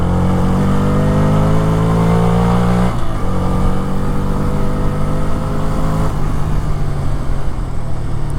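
A Bajaj Freedom 125 motorcycle engine revs steadily and loudly up close, with pitch rising and falling through a few throttle surges and no talking.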